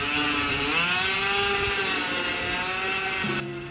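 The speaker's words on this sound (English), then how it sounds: "every hole I drilled I had to push the Dremel sideways" A Dremel rotary tool whines steadily at high speed while drilling holes in PVC pipe, a close, loud, continuous buzz that shifts slightly in pitch under load and then eases off at the end.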